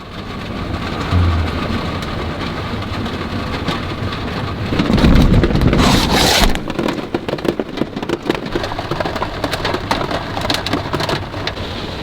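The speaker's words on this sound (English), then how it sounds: "There is so much water coming down the road right now" Heavy rain pours steadily on a road beside a parked van, a dense hiss throughout, with a rumble of thunder swelling midway before the downpour continues alone.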